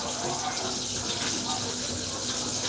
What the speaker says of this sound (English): turn the cold water on